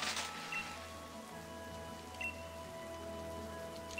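Rain falling in a Pokémon game DLC area, a soft, steady hiss of rainfall under sustained musical tones, fairly faint and continuous with no voices.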